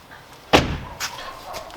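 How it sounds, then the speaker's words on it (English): A BMW 1 Series F20 car door shuts with a single solid slam, close and loud, followed by a faint lighter knock and quiet rustling. "Close the door."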